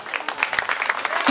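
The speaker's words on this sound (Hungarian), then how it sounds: "Én nagy tapsot kérnék a hangtechnikának!" A festival crowd at a village day concert claps and cheers steadily and close by, with dense clapping carrying through the full short stretch and no speech over it.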